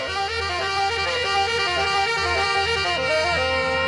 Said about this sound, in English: It's Joe Piscopo playing a saxophone.